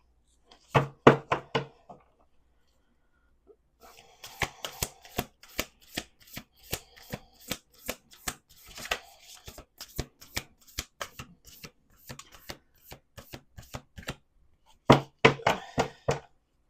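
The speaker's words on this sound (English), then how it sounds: "We're going to do 2 more shuffles." Crisp, rapid riffle bursts of playing cards being shuffled, several rounds in a row with short pauses between, close and fairly loud.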